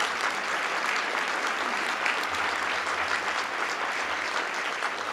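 Steady, loud applause from a large audience at a county executive's State of the County address in Prince George's County, sustained clapping throughout with no talking.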